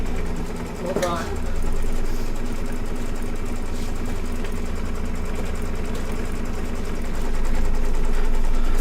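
An embroidery machine stitches an in-the-hoop door with a steady, fast mechanical whir and rhythmic needle chatter, running continuously at a close, even level while a person talks over it.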